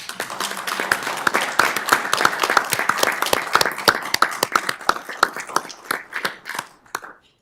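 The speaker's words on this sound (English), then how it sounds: "Can we give this group a round of applause?" A room full of people applauds at a town board meeting, with sharp, distinct hand claps at first that grow sparser and stop after about seven seconds.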